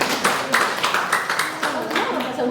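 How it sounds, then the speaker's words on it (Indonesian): Light scattered applause for an official at a meeting in a hotel, a brief patter of clapping from a small group, fairly faint. "Tepuk tangan untuk Pak Kadis."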